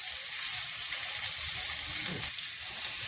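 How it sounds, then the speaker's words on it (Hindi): Continuous hiss and sizzle of cumin, fennel and onion frying in hot oil, close and steady, with faint stirring and no talk. "तेल गरम हो गया, इसमें डाल दिया हमने जीरा। जीरा के साथ ही थोड़ी सी सौंफ और सौंफ के बाद जाएगा प्याज।"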